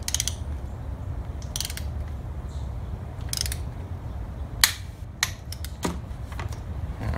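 A ratchet wrench clicks in short bursts while tightening header bolts on an LS1-swapped S14 240sx drift car, close metallic ratcheting over a low rumbling background.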